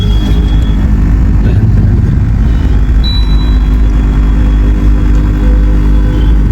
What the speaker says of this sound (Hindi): यहाँ पे ट्रैफिक लगा हुआ है